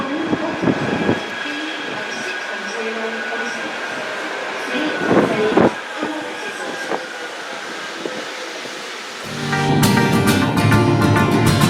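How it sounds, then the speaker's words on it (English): A Manchester Metrolink tram on the Bury Line hums and rumbles with a few sharp clunks and squeals, then grows louder near the end as it picks up speed. "we're going to jump on a tram now to head to our first stop"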